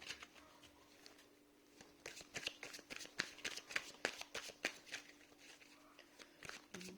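Tarot cards are drawn and handled on a table, giving soft rapid shuffling and riffling in close, quiet bursts. The sound grows busier after the first couple of seconds, and no voice is heard.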